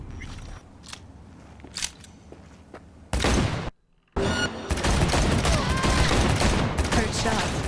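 Gunfire in Cyberpunk 2077 in Night City: a loud, dense burst of shots, a short gap, then sustained rapid firing that stays intense to the end, with scattered faint sounds before it.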